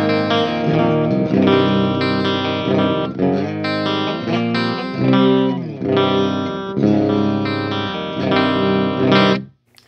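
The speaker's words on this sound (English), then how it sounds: "Pristine clean channel, super chimey." An electric guitar plays through the clean channel of a Bugera amp, bright and chimey, with strummed chords and picked notes ringing in a steady flowing pattern for about ten seconds before stopping.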